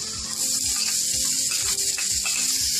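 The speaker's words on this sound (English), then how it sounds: "So we're gonna saute our onion for a few minutes so that we don't have that raw flavor." Chopped onion sautés in olive oil in a pan alongside garlic, giving a steady, close sizzle that hisses on without a break.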